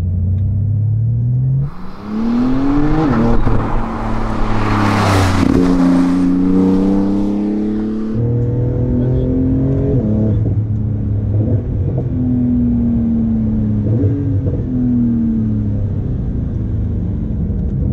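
Porsche GT2 RS with a 700-horsepower engine driven hard around a circuit, its loud close exhaust howling through rising revs, gear changes and deceleration, continuous for the whole stretch.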